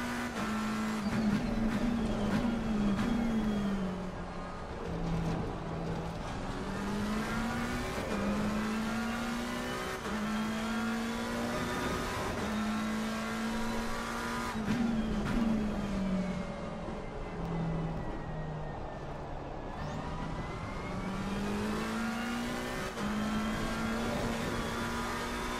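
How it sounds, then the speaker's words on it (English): Race car engine in the Assetto Corsa Competizione sim game, running continuously with a loud, steady drone that rises and falls as it shifts through gears and revs up and down across the lap, with no talking. "when you start driving, the engine noise gets a bit much"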